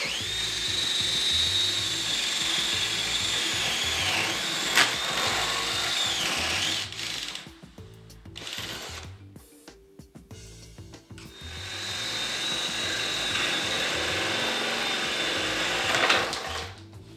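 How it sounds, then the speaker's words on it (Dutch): A power drill with a spade bit bores a door-handle hole through a wooden door, whining loudly and steadily for about seven seconds, pausing, then biting in again for another long steady run. "Boor het gat voor de deurkruk met de spieboor uit."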